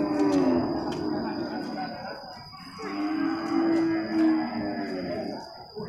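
A male water buffalo at a livestock market moos with long, low calls close by. Other animal sounds and people talking fill the background.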